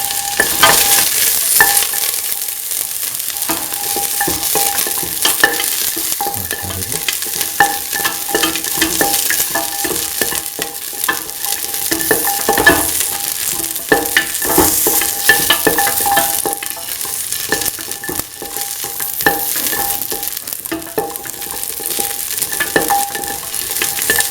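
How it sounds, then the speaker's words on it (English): Garlic and shallots sautéing in a pan for a coconut milk bean stew, a loud, dense, continuous sizzle with constant crackle and stirring, close up and unbroken throughout. "Keep on sauteing."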